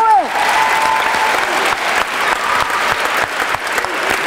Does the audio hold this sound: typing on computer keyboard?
no